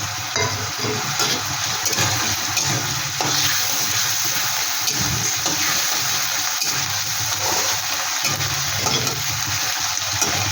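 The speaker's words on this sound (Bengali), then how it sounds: "এখানে যে কাঁচা লঙ্কা আর আদা বাটা, সেটা আমি দিয়ে দিলাম। এটা একটু ভেজে নেব।" Green chili and ginger paste fries in hot oil for a Bengali koi fish dish, giving a steady, even sizzle that runs without a break at close range.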